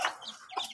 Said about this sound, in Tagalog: Yan yung mga sisiw natin.